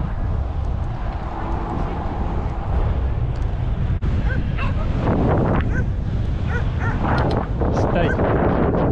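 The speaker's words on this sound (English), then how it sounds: "Oh, we got some dogs." Several dogs bark and yip at a passing cyclist on a rural road near Gainesville, Texas, in short repeated bursts mixed with wind noise, while the rider talks over them.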